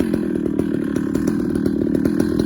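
A ported Husky 2100 chainsaw fitted with a Stihl bar and skip-tooth chain runs close and loud, giving a continuous rapid buzzing engine drone with fast regular pulsing.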